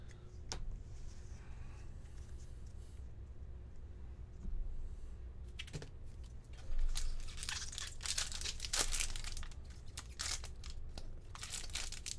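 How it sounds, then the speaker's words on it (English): Magic: The Gathering Khans of Tarkir booster pack being torn open: faint, close crinkling foil wrapper with sharper tearing and crunching toward the end, under a low steady room hum. "These packs are opening so nice compared to some of these newer packs."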